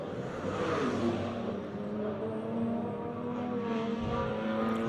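BMW race cars circling Red Star Raceway in a series race, a steady far-off engine drone with no single car passing close, heard under low commentary.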